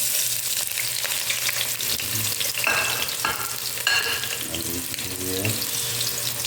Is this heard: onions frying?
yes